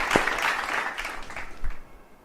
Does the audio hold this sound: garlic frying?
no